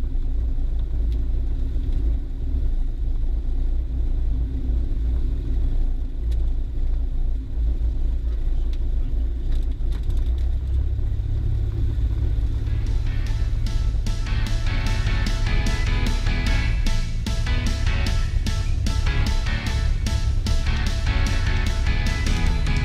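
A small airplane taxis off the runway onto the taxiway, its engine droning steadily from inside the cockpit, then the propeller throb rising into a louder, rapidly pulsing roar toward the end.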